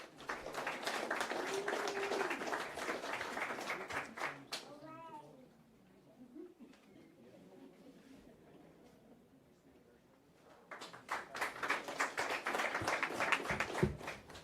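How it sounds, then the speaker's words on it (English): Applause for employees of the month being honoured at a school board meeting, a round of clapping that fades to a quieter stretch before resuming, with voices mixed in. "Let's give our May honorees a big round of applause."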